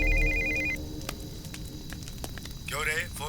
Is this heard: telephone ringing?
yes